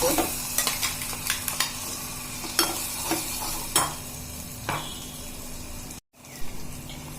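A spoon clinks and scrapes repeatedly against a bowl, stirring thick chutney, in irregular taps over a low steady hum.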